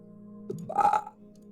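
A single drawn-out burp from a gamer during a God of War Ragnarök session, rising to a loud, rough peak near the middle and fading out over about a second, heard close with no talking.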